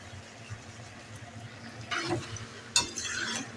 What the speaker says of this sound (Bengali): বারবার কষিয়ে নেব এভাবেই।